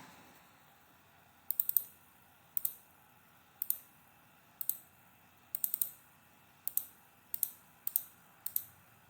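Sharp computer mouse clicks while drafting a custom activewear T-shirt pattern in CAD software, about a dozen crisp taps in small clusters and singles, close and clear over a quiet room, with no talking.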